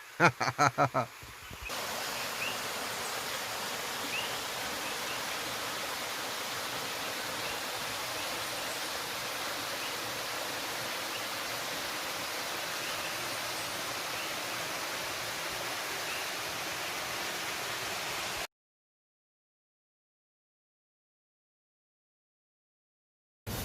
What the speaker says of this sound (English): So yeah, this is my waterfall.